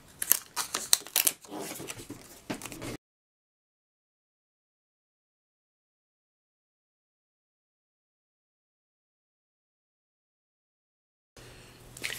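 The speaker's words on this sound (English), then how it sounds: "Let me take that off there and trim a little off." Scissors snip through cardstock being trimmed for a handmade Christmas box card, a quick burst of close crisp cuts for about three seconds, then silence before a brief rustle at the end.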